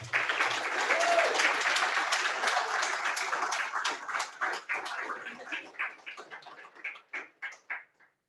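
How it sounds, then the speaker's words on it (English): Audience at a Welcome to Country event, held over Zoom, claps in a dense burst of applause that thins into scattered individual claps before stopping. "Thank you for that lovely applause."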